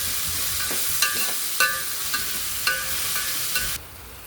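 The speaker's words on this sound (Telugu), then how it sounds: "అల్లం ఎల్లిగడ్డ పేస్ట్ అన్నిటికీ వచ్చేటట్టు అడిదంచుకోకుండా మంచిగా ఫ్రై చేసుకొని" Ginger garlic paste frying in a pan, a steady broadband sizzle with several sharp spatula scrapes and taps spaced about half a second apart, the sizzle cutting off abruptly near the end.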